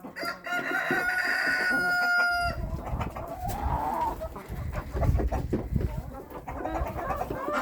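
Chickens and ducks come out of their coop on a cold spring day, filling the air with loud, close clucking and a rooster's crow that runs on without a break.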